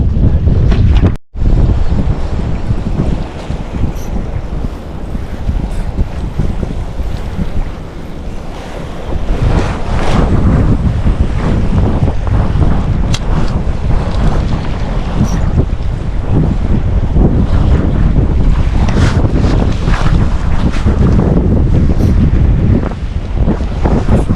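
Strong wind buffets a small fishing boat at sea in stormy weather, with waves slapping and surging and heavy microphone wind roar, loud and continuous with one brief dropout early on.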